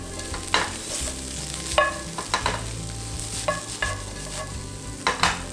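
Carrot and vegan egg stir-fried in a wok, soft continuous sizzling punctuated by sharp, irregular scrapes and knocks of a spatula against the metal, over a low steady hum of the burner.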